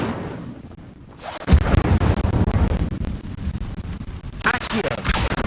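An Incendio fire spell in Hogwarts Legacy bursts out suddenly after a quiet moment, a loud close blast trailing into crackling rumble, with a second flare near the end and a voice speaking.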